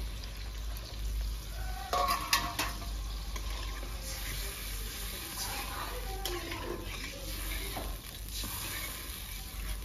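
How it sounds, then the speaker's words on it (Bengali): A spoon stirring mustard and poppy seed paste gravy in a pan, soft wet scraping and faint sizzling over a steady low hum, with a few louder clinks and scrapes of the spoon. "এই পেস্ট করা সর্ষে পোস্ত এগুলো আমি ভালো করে একটু গুলে"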